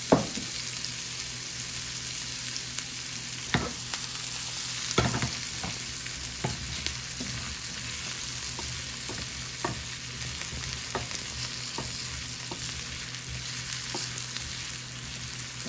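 Diced potatoes frying in oil for a cheese omelette, a steady close sizzle punctuated by repeated scraping and tapping of a utensil stirring the pan, no voices.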